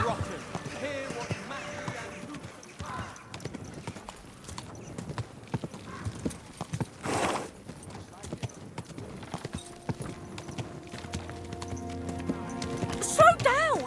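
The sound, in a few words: horse hooves clip-clopping in the video game Kingdom Come Deliverance 2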